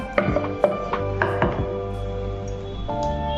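Roti dough for veg frankie rolls is rolled out with a rolling pin, giving a series of soft knocks and thuds against the board at an irregular rhythm, close by and without talk.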